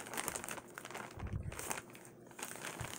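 A blue plastic mail bag crinkles and crackles as it is cut open with scissors, close and fairly quiet, in irregular rustling bursts with no talk.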